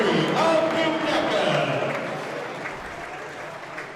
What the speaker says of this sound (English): Let's give all these gentlemen a big round of applause